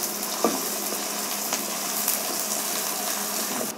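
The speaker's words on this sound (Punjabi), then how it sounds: "ਪਿਆਜ਼ ਜਿਹੜਾ ਆ ਸਾਡਾ ਹਲਕਾ ਜਿਹਾ ਭੁੰਨ ਹੋ ਗਿਆ" Onion frying in hot oil with cumin and asafoetida for a besan gatte curry gives a continuous close sizzle with faint stirring clicks.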